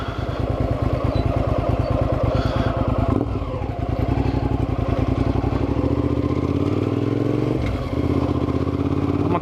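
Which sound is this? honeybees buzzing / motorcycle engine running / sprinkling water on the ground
motorcycle engine running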